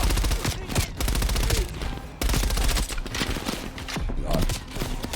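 Rapid automatic gunfire in Call of Duty Black Ops Cold War comes as dense, loud bursts of shots with brief pauses between strings. Faint voice chatter sits underneath.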